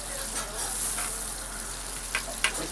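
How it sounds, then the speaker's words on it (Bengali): Potatoes and yardlong beans fry in a cook's pan with a steady close sizzle and hiss, broken by a couple of brief stirring scrapes near the end. "এখানে আলু বরবটি ভাজা হচ্ছে"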